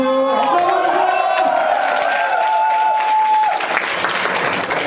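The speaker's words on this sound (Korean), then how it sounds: "박수 한번 주세요." Sustained applause from a concert crowd, loud and steady throughout, with a held instrumental tone underneath that fades out near the end.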